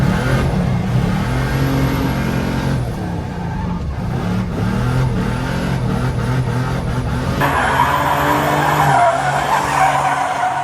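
Car tires squeal loudly and continuously during burnouts, donuts and drifting in a turbocharged OM606-engined car, the screech rising and falling over a steady engine drone with no voices.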